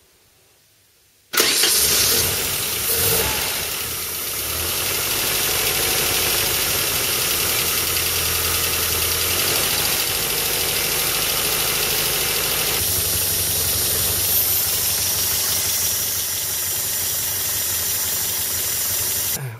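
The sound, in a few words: car engine restarting and idling during coolant system flush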